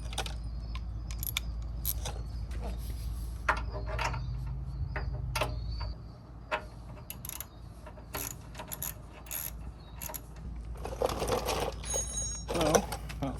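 A ratchet clicks in short bursts while tightening suspension bolts on a 1970 Impala, with metallic rattles and tool clinks nearby in a quiet garage.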